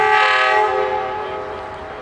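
A loud CSX freight train horn blows a sustained, chord-like blast that slowly fades, with low rumbling underneath, in Woodbourne, Pennsylvania.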